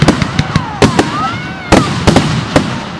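Fireworks bursting outdoors at night, a rapid series of sharp loud pops and booms with whistling rising tails between them and faint voices in the background.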